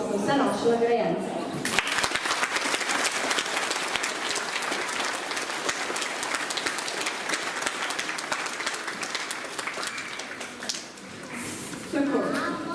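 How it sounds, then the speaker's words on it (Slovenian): Sustained applause from an audience at a school end-of-year ceremony honouring award winners, steady and dense for about ten seconds, with talk over a microphone at the start and end. "Zdaj pa prosim za še en aplavz za vse naše nagrajence."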